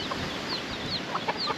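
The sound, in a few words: chickens clucking, a rooster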